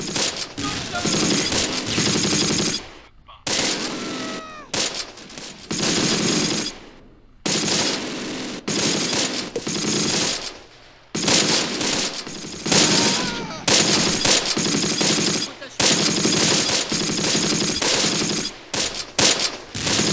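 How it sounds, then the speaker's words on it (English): Sustained heavy gunfire and tank fire from the Close Combat wargame, loud dense bursts of shooting broken by brief gaps, with near-continuous battle noise and little talk. "we're also taking tank fire here"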